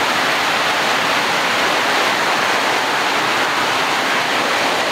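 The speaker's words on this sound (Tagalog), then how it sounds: "Ang ulan, oh. Grabe kaayo." Heavy rain pours down in Iligan City in a steady, dense hiss that is loud, close and continuous, with no voices.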